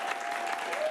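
Audience at an improv comedy show clapping to vote for a scene: a brief, continuous burst of close, full applause.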